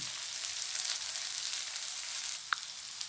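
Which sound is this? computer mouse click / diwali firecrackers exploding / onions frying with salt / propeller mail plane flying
onions frying with salt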